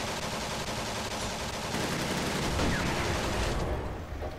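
Enemy machine gun fire rattles in the Steel Fury tank game, a dense, loud, continuous burst of rapid shots mixed with rumbling battle noise that thins out toward the end.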